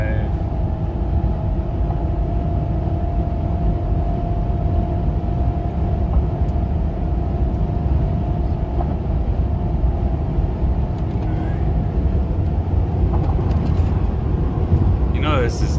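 Steady road and engine drone inside a car cruising at highway speed on cruise control on a Texas highway, a continuous low rumble with a faint tonal hum that stays constant throughout.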